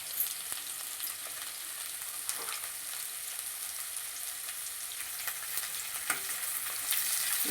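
Onions and green chillies fry with cinnamon and cloves in a pan, giving a steady close sizzle with occasional stirring clicks and scrapes and no voice.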